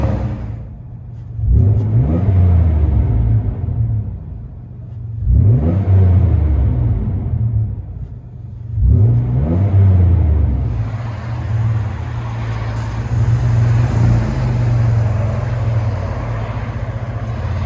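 A 2000 Toyota 4Runner 3.4L V6 with a Flowmaster Super 10 exhaust rumbles steadily from inside the cabin, rising in three revving surges before settling into a low, even drone.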